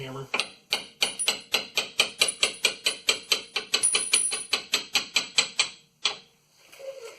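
A hammer strikes around the pinion seal of a 2011 RAM 2500 HD 6.7 Cummins truck, about twenty quick, evenly spaced metallic blows in a steady rhythm, loud and close, then a final hit after a pause.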